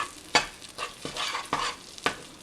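A spoon stirs and scrapes a drying paneer sandesh mixture sweetened with date syrup in a pan, giving about five sharp scraping strokes at an irregular rhythm over a soft background hiss, close and fairly quiet, with no talking.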